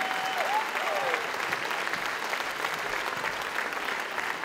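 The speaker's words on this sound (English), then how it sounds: "Give him a round of applause" Applause from the audience at a teen singing and dance competition in Manchester, a steady wash of clapping throughout at moderate distance, with a brief voice near the start.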